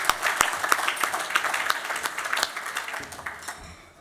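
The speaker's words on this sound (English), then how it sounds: "So I'd like to actually give everyone a round of applause." An audience at a social advocacy awards event gives a round of applause, steady clapping that tapers off toward the end.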